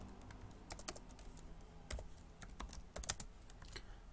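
Fingers type on a computer keyboard while entering Small Basic code: fast, irregular runs of light clicks with brief pauses between them, close and fairly faint, with no talking.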